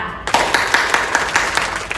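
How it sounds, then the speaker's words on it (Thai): A teacher's hands clap in a quick, steady rhythm, about eight or nine sharp claps close by after a brief quiet start. "คุณครูต้องขอปรบมือให้เด็กๆ ดัง ๆ เลยค่ะ"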